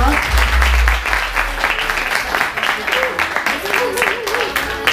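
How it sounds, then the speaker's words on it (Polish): An audience breaks into loud applause for rally driver Marek Suder, who has brought his car on stage. Dense clapping starts strong and then settles into a steady, slightly thinner patter, with talk underneath. "Ogromne brawa."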